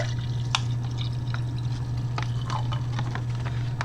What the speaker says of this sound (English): Let's get rid of the rest of that water, and then we'll pour this in here.